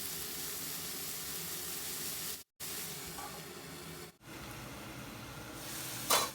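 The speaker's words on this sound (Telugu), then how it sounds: "చూడండి ఇలా మనకి మంచిగా ఫ్రై అవ్వాలి ఆయిల్‌లో." Broad beans frying in oil in a pan give a steady, close hiss and sizzle that runs throughout, broken by two brief silent gaps.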